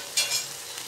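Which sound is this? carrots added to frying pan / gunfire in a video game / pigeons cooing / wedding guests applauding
carrots added to frying pan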